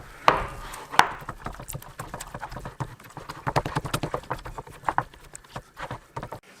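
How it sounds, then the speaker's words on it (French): Sugar tart dough worked by hand with butter mixed in, giving soft irregular slapping and squishing pats with a few sharper knocks, close and fairly quiet. "Et là, je me fais plaisir, je mélange à la main"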